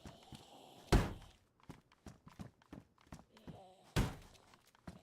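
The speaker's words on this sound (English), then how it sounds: "this dude's actually hammering on something" A player hammering on a door in DayZ, two heavy thuds several seconds apart with lighter knocks and scuffs between, fairly close, while people talk.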